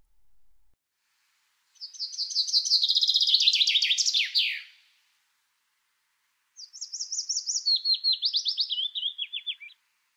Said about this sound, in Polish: Najpierw śpiewa zięba, potem piecuszek.